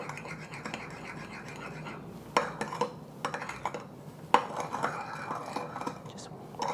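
A spoon scrapes and clinks around a small bowl as dark soy sauce and sugar are stirred together for wat tan hor fun, close and fairly soft, with a few sharper taps against the side.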